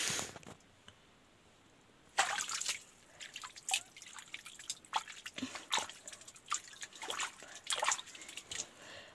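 Water trickling and dripping in a drain in Malakot, with quiet, irregular drips and splashes after a brief near-silent start, faint and close, with no talking.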